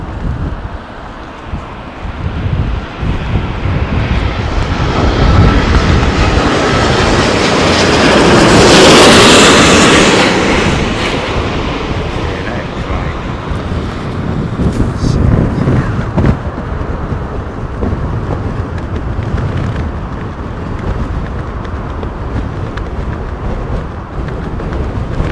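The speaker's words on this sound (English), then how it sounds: "That wind is constant. It's a constant wind." Strong, constant wind at London Heathrow Airport during Storm Lilian, buffeting the microphone in a loud, unbroken roar, with a heavier surge building midway as it passes.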